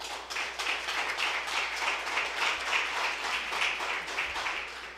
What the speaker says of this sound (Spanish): eso sí se merece un aplauso